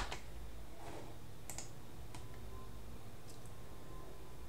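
Quiet keystrokes on a computer keyboard, a handful of scattered soft clicks spread across several seconds against a faint low hum, with no voices.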